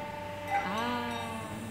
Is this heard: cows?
yes